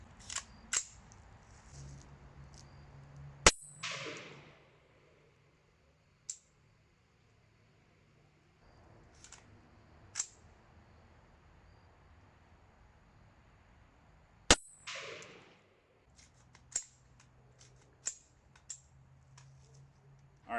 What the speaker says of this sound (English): We're just going to sight it in, see how the sights work, and just do some basic test firing and just see how it does.